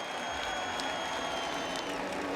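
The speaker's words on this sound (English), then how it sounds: "Let's give him a round of applause." Crowd applause at the Indianapolis 500 race, a dense, steady wash of clapping and crowd noise heard at a distance, sustained without a break.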